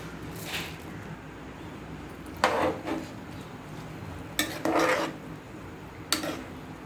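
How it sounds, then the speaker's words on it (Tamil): Soaked rice stirred into coconut milk in a pot, a few scraping, rasping strokes of a spoon against the vessel, close, over a soft background rumble. "அந்த அரிசி உள்ளே சேர்த்துட்டு நல்லா மிக்ஸ் பண்ணி விட்டுருங்க."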